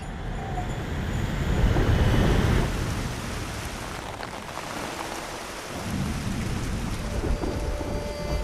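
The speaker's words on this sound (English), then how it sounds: "Still raining here, and the forecast is calling for more rain." Heavy, steady rain pours in the mountains of Nepal, a dense continuous hiss with deeper rumbling surges, loud and unbroken with no voices.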